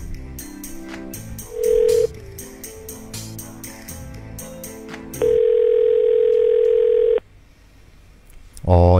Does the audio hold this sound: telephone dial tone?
yes